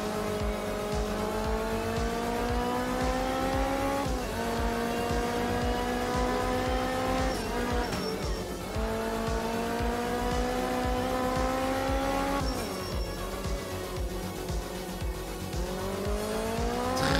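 Rally car engine in Art of Rally, a Ford Sierra, revving hard and continuously with rising and falling pitch through gear changes, loud and alone with occasional tire scrabble.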